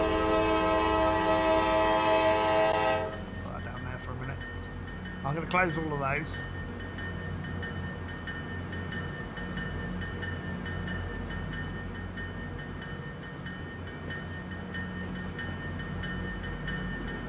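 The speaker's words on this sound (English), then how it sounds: "Niagara Falls train number 1. This might sound like a horrible train." Train running in the game Transport Fever, a loud sustained horn-like tone that cuts off, followed by a steady rumbling run with a few brief squealing sweeps, while someone talks over it.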